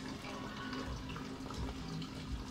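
Tap water runs steadily over dirty drinking glasses being washed in a sink, a dense continuous splashing rush that stays close and even throughout, with no talk.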